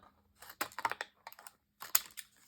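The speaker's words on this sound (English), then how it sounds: "So just going to use my decorative scissors here" Decorative-edge scissors snip through paper for a junk journal belly band, a few crisp close cutting bursts in quick succession with short pauses between.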